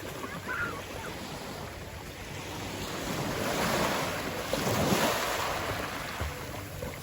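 Sea surf washes steadily onto a beach, a continuous broadband roar that swells and recedes, with wind buffeting the microphone and no speech.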